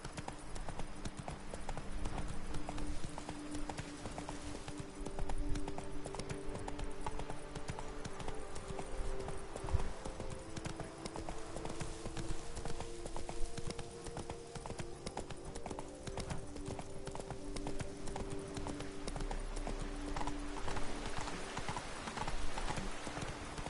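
Horse hooves clip-clopping in a fantasy role-playing video game, a steady rhythmic trot continuing throughout at moderate distance over a low ambient game bed, with occasional snorts.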